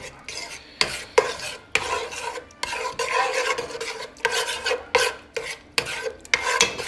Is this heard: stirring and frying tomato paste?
yes